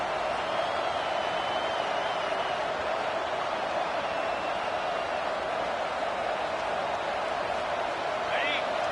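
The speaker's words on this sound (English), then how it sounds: "Now the crowd responding in the red zone, trying to help this defense." A stadium crowd at an American football game roars in a steady, loud wash of noise as the home defense plays in the red zone, running unbroken throughout.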